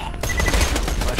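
Shotgun blasting in Borderlands 2, a loud close burst of gunfire filling the whole moment.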